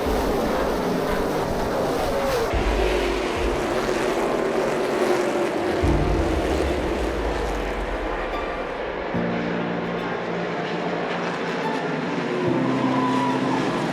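Race cars on a road racing circuit, heard as a continuous loud engine roar whose pitch rises and falls as cars pass and shift gears, layered and fairly close, with no talking.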